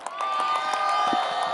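A crowd of young people at a youth sports program event with Lahore Qalandars cheers, whoops and shouts continuously, a dense roar of many voices.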